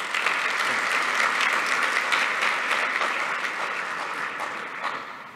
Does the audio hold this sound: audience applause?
yes